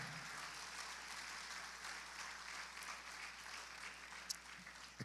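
A church congregation applauds during a Sunday morning service, a steady wash of clapping from many hands that sounds somewhat distant and fairly faint, continuing evenly throughout.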